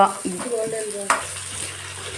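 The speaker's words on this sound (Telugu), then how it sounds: "నెక్స్ట్ క్యారెట్, కీరా అవి కూడా వేసుకొని ఫ్రై చేసుకోవాలి" Diced carrot and cucumber go into a hot pan for restaurant-style fried rice at home, giving a steady sizzle with stirring clatter and one sharp scrape partway through, close and alone.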